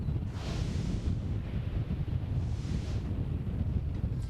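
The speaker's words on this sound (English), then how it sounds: "Jeff and Kathy, the wind is still whipping and there is debris flying across fields and yards in this area" Strong wind sweeps across a tornado damage scene in West Paducah, a steady low roar with slow gusts rising and falling as it buffets the microphone, with no voices.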